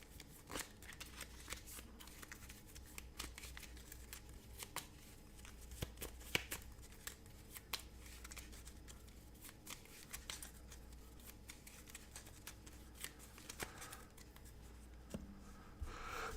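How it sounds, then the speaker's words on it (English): Cards for the Marvel Champions game being shuffled back into a deck, a steady soft riffling and rubbing of card stock with occasional sharper snaps, close and fairly quiet, no talking over it. "take our vibranium and shuffle it back into our deck again"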